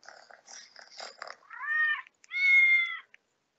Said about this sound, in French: Donc, mes chats, là, ils font parfois des drôles de miaou, d'accord?